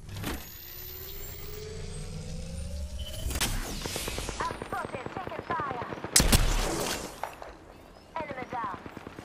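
Shots ring out during an Apex Legends match in rapid strings of sharp bursts, loud and close, following a low motor-like hum, with one heavier blast partway through.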